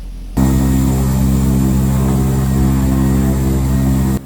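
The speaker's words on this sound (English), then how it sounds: "As the captain fired up the engines" Vintage propeller airliner engines on a no-frills island flight start up with a sudden loud onset, settling into a steady, droning multi-tone hum close by that holds for several seconds before cutting off.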